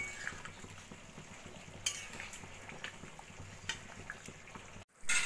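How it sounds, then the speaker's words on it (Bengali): Mutton curry with homemade garam masala powder being stirred gently in a pot, soft scraping strokes and a faint simmering sizzle, with a sharp clink near two seconds and a brief pause before a final louder stir. "এবার আস্তে করে নাড়া দিয়ে মিশিয়ে নেব"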